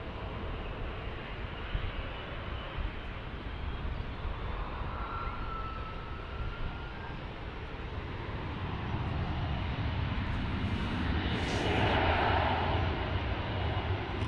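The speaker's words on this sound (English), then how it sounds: "Got some Dreamliner action here from American Airlines." American Airlines Boeing 787 Dreamliner jet passing a Dallas–Fort Worth spotting spot, a broad steady engine roar that swells louder toward the end, heard alone without talk.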